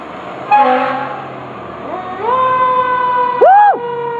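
A fire engine's deep, loud horn blares in several long blasts while it responds to a medical call in Fairfield, Connecticut, the last blast rising and falling, over a low engine rumble and no talking.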